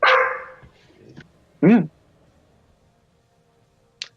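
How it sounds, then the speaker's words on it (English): A dog barks in the background during a tabletop game session, one loud sharp bark after a burst of talk, followed by quieter noises and a brief faint click. "I keep hearing this dog every so often. It's in the background."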